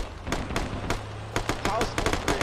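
A video game battle fills with bursts of gunfire, sharp repeated shots cracking in quick irregular volleys, with a speaking voice running underneath.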